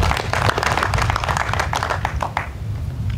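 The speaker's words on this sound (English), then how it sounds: "I would like you to give him a hand clap." An audience claps for a retiring army officer at a military retirement ceremony, dense hand clapping that continues steadily throughout at moderate loudness.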